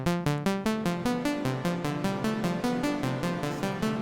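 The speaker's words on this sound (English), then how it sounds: "we're adding more reverb" A bright synthesizer plays a steady sequence of plucked notes through a Synthesizers.com Q201 FXLP module's reverb, each tail washing into a reverberant haze, continuous and fairly loud with no voices.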